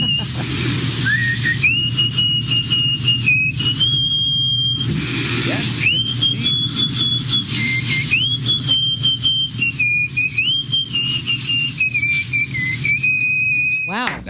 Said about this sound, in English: That's all nose whistle.